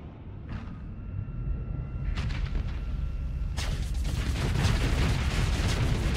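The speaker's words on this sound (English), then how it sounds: "A lot of missiles." Missiles launching and bursting in a Starsector space battle, a string of sharp blasts building into a dense, loud roar of overlapping explosions and rumble that thickens toward the end.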